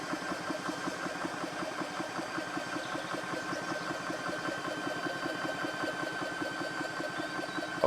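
A BSA portable PCP air compressor runs on 12-volt DC power with its cooling fan going, making a steady, continuous mechanical hum with a fast rhythmic pulsing throughout, close and even in level.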